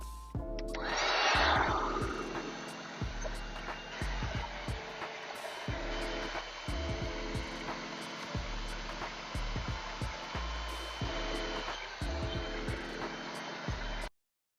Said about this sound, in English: now I'm going to use the heat gun to dry it before I do the next part